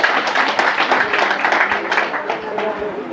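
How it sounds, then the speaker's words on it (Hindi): Audience applause for the sisters at a Brahma Kumaris camp quiz competition in Sambhajinagar, Maharashtra: dense, steady clapping from a room full of people, fairly loud and continuous, with some voices mixed in. "चलो तालियां हो जाए बहनों के लिए"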